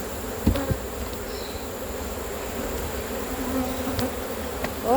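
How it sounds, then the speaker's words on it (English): A dense, steady buzz of many bees fills the air, close and continuous, with a few soft knocks and clicks mixed in. "There are some bees in that hive."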